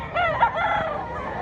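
Close, loud crow from a gamecock at a manok expo and auction in Mantalongon, Barili, Cebu, a single drawn-out call standing clear with other fowl faint behind it.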